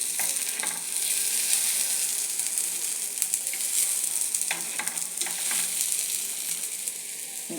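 Paniyaram sizzle steadily in a stone paniyaram pan as they are turned, a bright hissing fry punctuated by a few clicks and scrapes of a knife against the pan, heard up close with no one talking.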